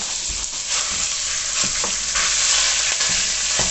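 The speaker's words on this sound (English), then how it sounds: "Pop a wee bit of the mince in. If it sizzles, it's good to go." Steady, loud sizzling of minced meat frying in hot oil for chilli, with faint scraping as it is stirred.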